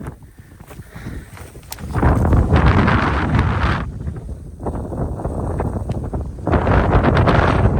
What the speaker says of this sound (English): It is chilly out here and windy once again.